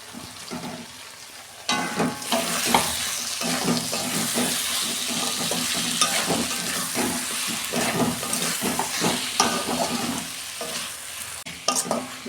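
Okra and potatoes fry in hot spiced oil, a loud steady sizzle that jumps up as the vegetables go in, with scraping stirring strokes throughout and a brief splash of water near the end.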